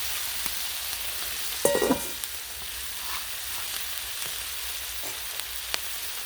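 Country style ribs sizzle and fry on a Blackstone griddle with a steady, close crackling hiss and a brief louder spatter partway through.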